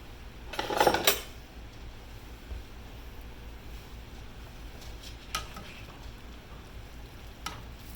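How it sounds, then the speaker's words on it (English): Linguine being tossed with a pasta server in a pan of butter sauce with fresh Roma tomatoes, giving a short burst of scraping, clinking and sizzle early on, then faint scattered clatters over a low kitchen hiss. "we're going to bring our pasta over here and throw it in here and toss it"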